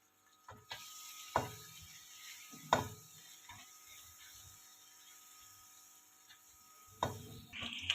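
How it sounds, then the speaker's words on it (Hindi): Eggs fry in oil in a kadhai while the pan is swirled, giving a steady low sizzle with a few louder scrapes and clanks of the pan near the start and end. "आप चाहे कढ़ाई को ऐसे घुमा भी सकते हैं, ऐसे अच्छी तरह कलर आने तक हमने इसको फ्राई करना है।"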